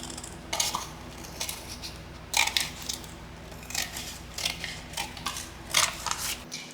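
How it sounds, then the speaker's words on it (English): Paper being cut with scissors, a book page trimmed down, heard as repeated crisp snips and rustles spaced through the clip, close and fairly quiet with no talking. "Cut my page so it's easier to manage."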